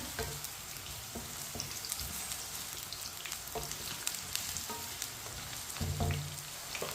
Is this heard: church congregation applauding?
no